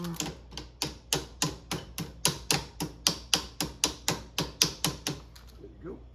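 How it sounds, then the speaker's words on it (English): Repeated hammer blows on ATV brake and steering parts during a Tao Tao Coolster drum-to-disc brake conversion: about sixteen sharp metallic strikes in a steady rhythm, close and loud, ending with a brief faint voice. "Hammer."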